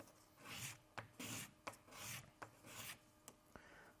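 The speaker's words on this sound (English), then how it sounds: "give this a good little bit of sanding here until we are happy with the fit" Close, loud sanding of a centering ring for a model rocket build, short rasping bursts of abrasive on wood repeating in an uneven rhythm with brief pauses between strokes.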